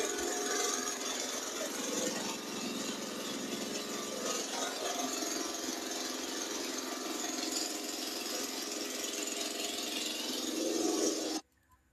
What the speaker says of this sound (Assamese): এইটো হৈছে ডিজেল ইঞ্জিনৰ